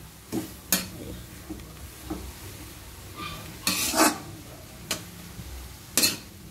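Adobo stirred in a pan, a soft sizzle under repeated metal utensil scrapes and clinks against the pan, close, uneven and alone.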